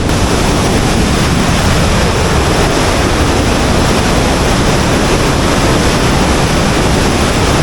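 Water rushes over a check dam at Mahilekhya waterfalls in Tamil Nadu, a dense, steady roar that stays loud and unbroken throughout, with no voices.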